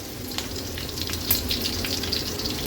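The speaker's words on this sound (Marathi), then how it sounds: "फोडणीला कडीपत्त्याची पानं घालते अर्धा चमचा जिरं" Steady crackling sizzle of curry leaves and cumin seeds frying in hot oil, a constant hiss with a few sharper pops, close and moderately loud.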